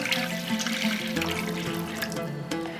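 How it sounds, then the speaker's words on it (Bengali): Water is poured into cooked spice masala in a pan to make gravy for a spinach and moong dal dish, a steady close splashing pour running throughout. "এরপর এখানে গ্রেভির জন্য দিয়ে দেব 2 কাপ জল।"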